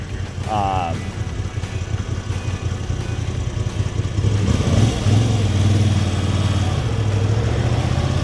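A Moto Guzzi V85 TT adventure motorcycle engine revs and picks up speed while riding through Chicago's Pilsen, growing louder partway through, with a voice talking over the steady engine drone.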